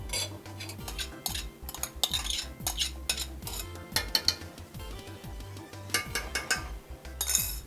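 Spices and black pepper being gently stirred through a pot of Jamaican goat curry with Scotch bonnet and pimento, a utensil scraping and clinking against the pot in a steady, repeated rhythm, fairly quiet and close.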